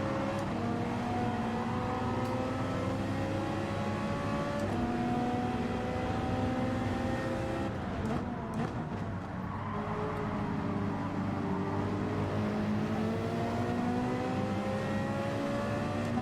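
A Ferrari race car in Gran Turismo 7 roars continuously at high revs, its engine note rising and falling through gear changes as it drives out of corners, loud and sustained throughout.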